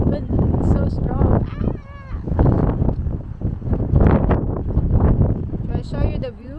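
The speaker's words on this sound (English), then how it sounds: "this is the wind, it's so strong" Strong wind at Scrabo Tower, a hilltop monument near Newtownards, buffeting the microphone in loud continuous roaring gusts, with a person speaking over it.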